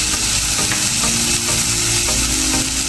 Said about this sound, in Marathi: व्यवस्थित मंद परतून घ्यायचे मसाले